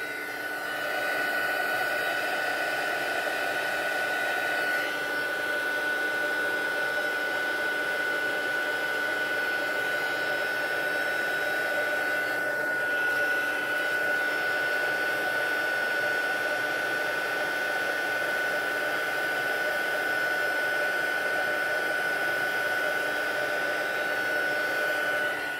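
Electric heat tool warming up for heat embossing a Christmas card: a steady close-up blowing whir with a constant high whine, running evenly for the whole stretch with a slight change in tone early on.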